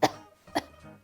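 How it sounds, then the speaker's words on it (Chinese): A person with a cold and dry throat gives two short, sharp coughs, close and fairly quiet, with a faint throat sound after the second. "总咳嗽。"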